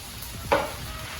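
Beef tips browning in a hot pan give a short soft sizzle with a quick stir, close and quiet, without any talking.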